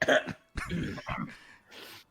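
A player voicing a character during a tabletop role-playing session gives a short throat-clearing cough into a hand, imitating the sound. Two or three quick muffled bursts follow, close and fairly soft.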